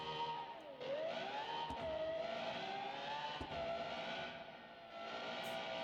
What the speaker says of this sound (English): Sounds like a goddamn F1 car, I love it.